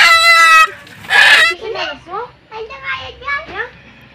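A chicken on a Filipino farm clucks and squawks in short bursts, close and loud, mixed with excited children's voices talking over and between the calls.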